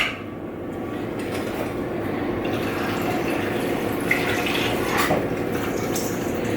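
Water running into the bottom section of a steamer pan holding carrots, a steady continuous pouring wash that rises slightly in pitch as it fills, with no talking.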